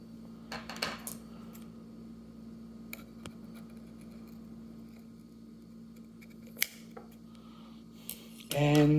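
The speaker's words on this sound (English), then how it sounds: "you want to come in and just clip the wicks and cut them down" Candle wicks in a candle made from an empty tequila bottle are clipped to size, giving a few light metallic snips and ticks over a steady low hum, close and fairly quiet.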